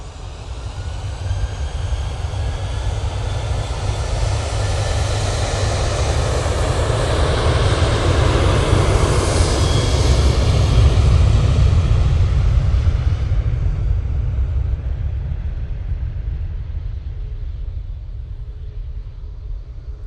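A TUI airliner at Manchester Airport powers up its jet engines, a deep, loud rumble and roar that swells toward the middle and then slowly fades.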